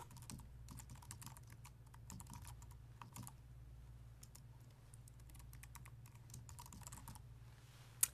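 Computer keyboard being typed on to enter an email address, a quiet, close run of rapid key clicks with brief pauses over a low steady hum.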